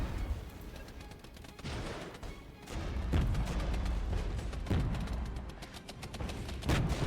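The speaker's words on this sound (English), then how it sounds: "We're getting suppressed by their artillery fire." Artillery barrage in the Regiments Cold War tactics game, a dense run of booming blasts and crackling fire that swells and rolls on without a break, loud and close with no talking.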